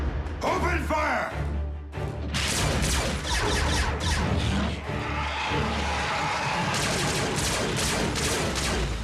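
Rapid, dense gunfire and crashing blasts from the Transformers: Prime animated series fill the scene continuously, mixed with shouting voices and music.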